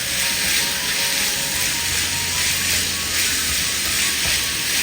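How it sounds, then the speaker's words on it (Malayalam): Sliced onions with curry leaves and salt sizzle and sauté steadily in hot oil in a pan while preparing chatti pathiri, a continuous close frying hiss with faint stirring clicks and no talk. "ഈ സവാള ഒന്ന് വഴറ്റിയെടുക്കാം"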